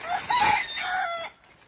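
A rooster crows once nearby, a loud strained call that rises and holds before cutting off, with no other sounds around it.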